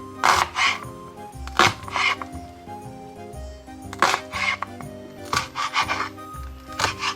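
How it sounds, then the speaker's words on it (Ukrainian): A knife cutting an onion into half rings on a board during potato goulash prep, heard as several close, crisp chopping strokes in short bursts with pauses between them. "Цибулю нарізаємо півкільцями."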